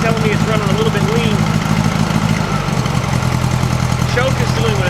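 A 1956 VW Beetle engine, cold and running lean after a carburetor swap, idles close by with a steady, loud, slightly uneven putter that never revs up; a few faint squeaky tones drift over it.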